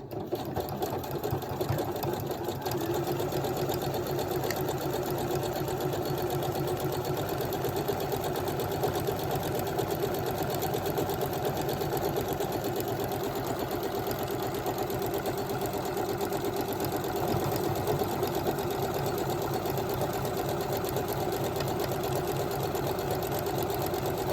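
A sewing machine with a buttonhole foot stitches a buttonhole, running steadily and continuously, a fast, even mechanical whirr with rapid stitching ticks throughout, loud and close, with no talking.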